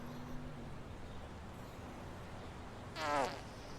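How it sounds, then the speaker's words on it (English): A short, buzzy fart noise pops up near the end as random ambient sound in an Unreal Engine 4 video game map, coming alone after a stretch of low background hum. "So yes, it does play random fart noises."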